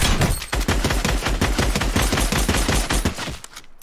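Tactical Assault Rifle fire in Fortnite, a sustained burst of fast, evenly spaced shots, loud and near, running for several seconds before cutting off, with no talking over it.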